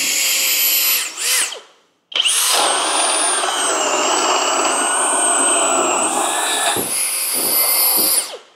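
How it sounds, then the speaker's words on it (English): A Flex cordless right-angle drill whines loudly at high speed, pausing briefly once, then runs steadily again with a couple of short dips near the end. "It makes this drill an absolute beast."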